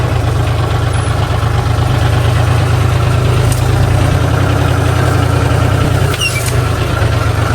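A tractor engine runs slowly at low revs while climbing up to reach coconut trees, giving a steady, loud, close drone with a deep rumble throughout.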